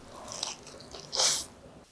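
A bite into a crispy Korean onion pancake gives a short, close crunch after softer handling noises, a single quiet burst in an otherwise near-silent moment.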